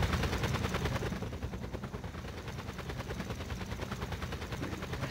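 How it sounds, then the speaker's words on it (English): A helicopter in GTA San Andreas drones with a steady, dense rotor chop throughout, loud and close, with no talk over it. "Still hear the chopper."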